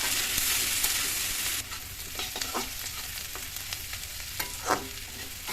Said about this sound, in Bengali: এই যে রসুন পেঁয়াজ কাঁচামরিচগুলো টেলে নিতেছি দশ আইটেমের ভর্তার জন্য